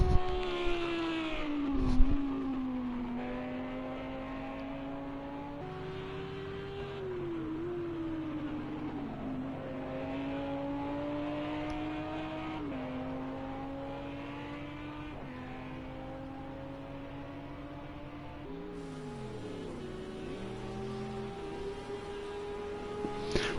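Race cars, including a Lamborghini, lapping the Fuji circuit during a Friday night practice session, a steady distant engine drone with rising and falling pitch as cars accelerate and shift, fairly faint throughout.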